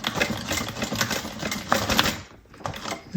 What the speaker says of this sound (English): I'm just going to do a couple of back stitches here.